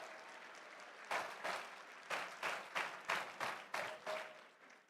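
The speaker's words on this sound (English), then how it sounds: "One more round of applause." Faint applause from the audience at a Massachusetts FIRST Tech Challenge robotics state championship, rising in a series of short, evenly spaced swells of clapping that fade toward the end.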